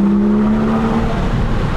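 A Porsche 911 997 GT3 RS with a 4.0-litre race-derived flat-six holds a loud, close, sustained rev with a clear steady tone over a heavy rumble, with no voices.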